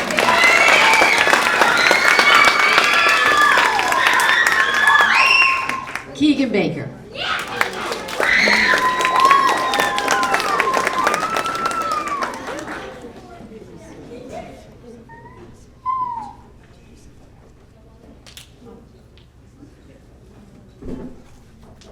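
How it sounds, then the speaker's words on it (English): Festival audience at a storytelling event applauding and cheering, a dense burst of clapping with voices over it for several seconds, then a brief pause, another burst, and a fade into quieter room sound with a name spoken. "Let's give him a round of applause"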